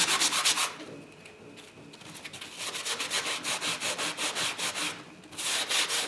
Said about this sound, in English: You can use 100 grit, 120 grit. You can be more aggressive, less aggressive.